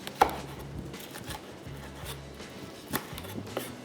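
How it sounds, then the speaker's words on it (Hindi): Knife finely chopping tartar sauce ingredients on a board, quick close taps in short irregular bursts, fairly quiet, with no one talking. "बस अब इसको चॉप करते जाएंगे, बिल्कुल फाइन चॉप करूँगा"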